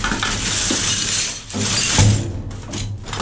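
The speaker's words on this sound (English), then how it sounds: "Yeah, that's all broken glass." Broken glass shatters and clinks in a dumpster while rummaging, a rough, continuous crunching and tinkling at close range with a sharper burst around two seconds in.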